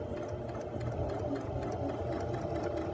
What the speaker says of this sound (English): I'm going to start with a base stitch.